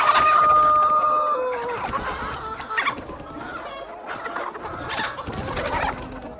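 Hens cluck and squawk on a chicken farm, with several birds calling in uneven bursts close by over a busy background, and a bright whistle-like tone at the start.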